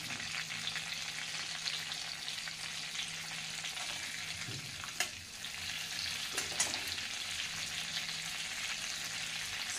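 Cumin and spices fry in melted butter for dal fry, giving a continuous soft sizzle with a couple of brief stirring clinks partway through.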